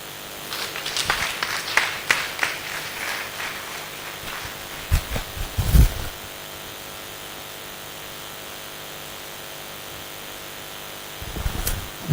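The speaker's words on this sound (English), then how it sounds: "let's give him a round of applause" Audience applause after a Thrombosis Day 2020 lecture, bursts of clapping rising and fading in waves, with a near burst around the middle and a brief final swell, no talking over it.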